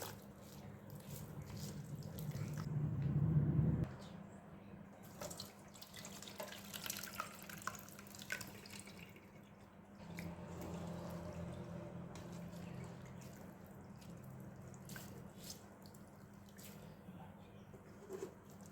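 Water is poured into bajra millet dough, a louder splashing burst early on, then a quieter, steady trickle and sloshing as the dough is worked to draw out its starch.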